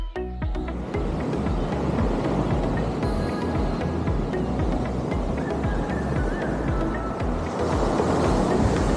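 Ocean waves at Kelingking Beach on Nusa Penida roll and break in a continuous loud roar of surf, with wind buffeting the microphone throughout.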